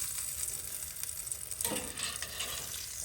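Pieces of deer heart pan-fry in a skillet, making a soft, continuous sizzle with a brief crackling burst midway as more pieces go in, fairly quiet and without talk.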